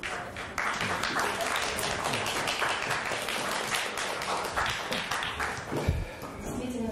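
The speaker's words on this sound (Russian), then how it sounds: "Действительно заслуживает бурных аплодисментов" Warm, sustained applause from an audience after a lecture on the Katyn massacre, a full room clapping steadily and fairly loudly with a voice speaking over it.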